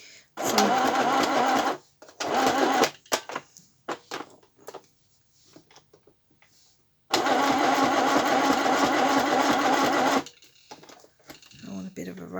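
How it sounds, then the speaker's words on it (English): A sewing machine runs in loud, steady bursts of rapid stitching, a long run at the start and another later, separated by pauses with brief speech. "And I am going to stitch on it."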